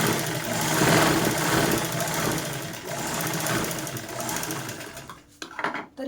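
A sewing machine runs a continuous, close, loud whirring stitch while double-stitching a zipper onto a bag, then slows into a few short stop-start bursts at the end.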